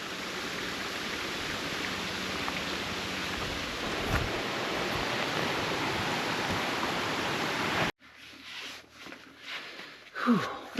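Several waterfalls roar in a broad steady rush for most of the stretch, then cut off abruptly to quieter outdoor sound with faint breathing and movement.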